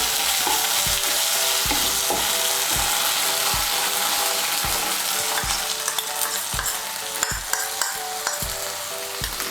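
Spice paste of turmeric, coriander and chilli powder fries loudly in a pan for a potol bora curry. The sizzle is constant, with a regular series of scraping clicks from the stirring spoon and no talk.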